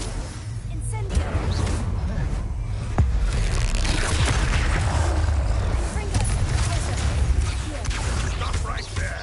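Incendio fire spells cast in Hogwarts Legacy combat, heavy booming blasts and crackling bursts stacking over dense, continuous game noise, with a voice mixed in.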